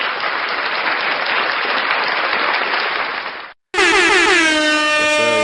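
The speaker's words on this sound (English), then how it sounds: "Of course we have to do the big round of applause, man" Canned applause sound effect plays loudly and evenly for a few seconds, cuts off abruptly, then a blaring air horn blasts in repeated pulsing bursts.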